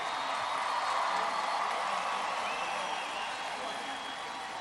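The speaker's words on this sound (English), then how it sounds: "Let's give another round of applause for our graduates." An audience at a 2021 high school graduation claps for the graduates, a soft, even patter of applause with some crowd murmur, tapering slightly toward the end.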